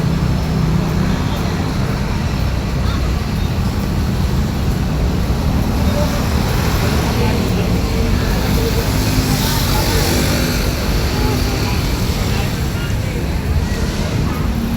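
Dense, constant roadway traffic roars past a road overpass, a broad steady rumble of cars and buses with no breaks and no single vehicle standing out, loud and close throughout.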